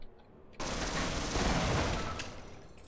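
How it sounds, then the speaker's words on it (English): Automatic turret gunfire in the Half-Life video game erupts suddenly into a loud, dense, rapid stream of shots lasting over two seconds, close and harsh. "Oh god, there's a turret."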